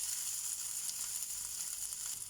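Chopped ginger sizzles in hot oil with mustard seeds, chana dal, urad dal and red chillies, a close, steady, faint crackling hiss with no talk.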